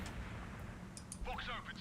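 Gunfire in the Warhammer 40,000: Gladius strategy game arrives as a couple of brief, faint bursts, followed by a short voice-like sound.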